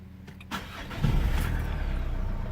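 A 2007 Peugeot 407 HDi 136 diesel, fresh from a timing belt job, cranks briefly and catches on the first try, settling into a steady, rough-edged idle close by without any talking.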